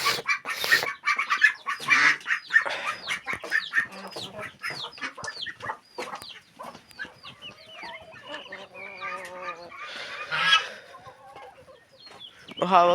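A flock of chickens clucks continuously nearby, many short overlapping calls with occasional louder squawks and a rooster-like call, no talk.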